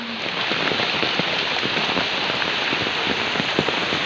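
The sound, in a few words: heavy rain from Typhoon Ulysses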